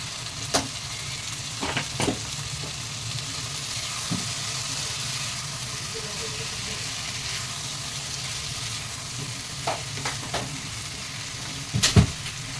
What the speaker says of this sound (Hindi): ये देखिए, इसमें मैं गोभी डाल रही हूँ।